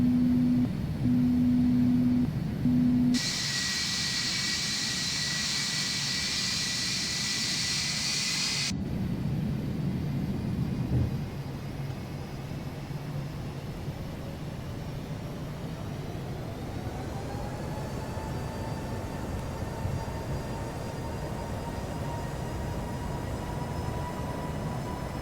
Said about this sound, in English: Okay, we're gonna deploy the gear.